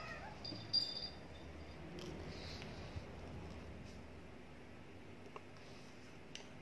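One faint, short meow sounds early on, followed by a near-silent room with a few soft clicks.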